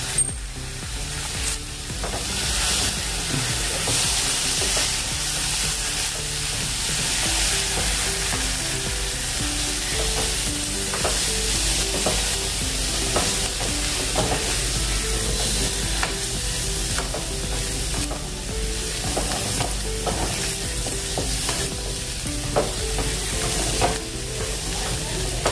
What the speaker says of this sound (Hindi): बाद में डालेंगे इसमें आलू, अच्छे से मिक्स कर लेंगे।